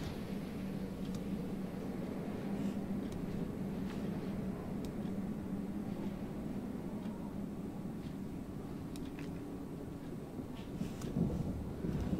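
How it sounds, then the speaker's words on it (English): Thunder in the Star Citizen game, a continuous low rumbling roar that holds steady throughout with faint crackles above, no talking over it. "I'm hearing thunder."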